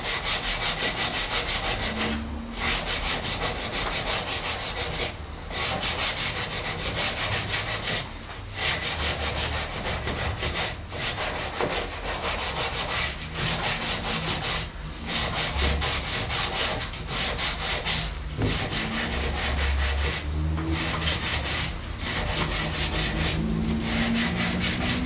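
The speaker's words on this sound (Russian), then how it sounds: "Дальнейшее доведение наружных граней до овального состояния снаружи производится наждачкой." Sandpaper rubs against a wooden screw thread in steady back-and-forth strokes, each a loud, close, gritty scrape with brief pauses between strokes, and no one talks.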